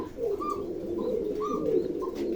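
Tumbler pigeons in a loft give a steady low cooing murmur, with a few brighter chirps repeating over it, near and continuous; no speech.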